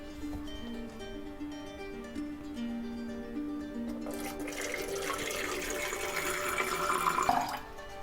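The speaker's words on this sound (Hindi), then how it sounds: "और अब हम इसमें पानी भरते हैं।" Water runs steadily into a bottle, a soft hiss at first that grows brighter and fuller as the pour continues, ending abruptly; no talking.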